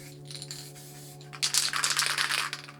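A spray paint can, a Flame Blue can of black paint, shaken hard for spray art, its mixing ball rattling in a fast, dense burst of clacks that starts after a quiet second and keeps going close up.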